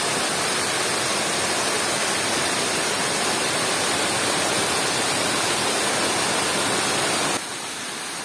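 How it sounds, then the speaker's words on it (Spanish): Water rushes steadily and loudly where a stream empties out near a small village at night, a dense, unbroken roar close by that drops slightly in level just before the end. "Y de este lado pues ya desemboca lo que es el agua."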